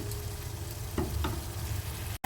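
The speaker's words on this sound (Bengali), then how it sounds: "আর একটু ভালোভাবে মশলাটা কষবে" Spice paste coats potatoes frying in a pan for a cabbage and fish-head dish, a steady close sizzle with a couple of soft stirring scrapes, cutting off abruptly at the end; no talking.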